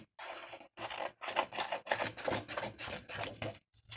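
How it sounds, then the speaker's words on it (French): Scissors cutting paper for a scrapbook page, a run of close, quiet snipping and rustling strokes in quick repeated bursts with brief pauses between, no voices. "On va découper."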